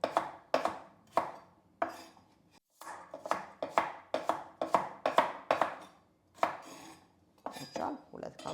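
A knife chopping carrots into pea-sized pieces on a board, sharp distinct strikes in uneven bursts with brief pauses between runs, close and clear with no talking.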